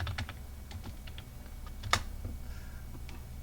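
Typing on a computer keyboard to enter a search for an Aptana Studio Ubuntu plugin, a run of quiet, irregular key clicks with one sharper tap midway, close and alone with no voices.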